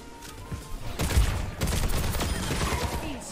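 Sustained rapid gunfire aimed at Roadhog in a first-person hero shooter, loud bursts of shots rattling steadily across the moment with a few heavier booming impacts and no voices.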